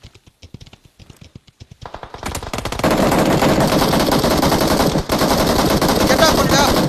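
Gunfire in the mobile battle royale game BGMI: a few scattered shots at first, then a dense, loud, continuous burst of rapid automatic fire that carries to the end.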